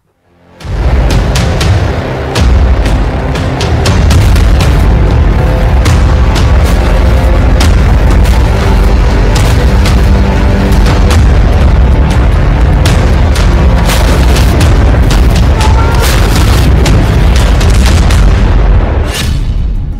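Explosions go off in the desert during an India-America joint military exercise in Rajasthan. After a sudden onset, the blasts and booms roll on loud and dense, with repeated sharp cracks layered over a continuous heavy rumble and no speech.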